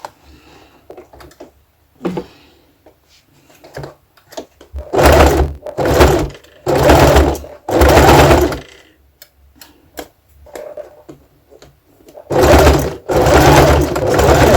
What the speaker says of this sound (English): I'm sewing through over my pin